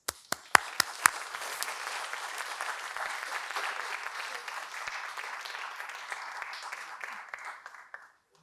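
An audience at a museum symposium welcomes the speakers with applause. A few sharp individual claps come first, then a full, steady round of clapping that fades out near the end.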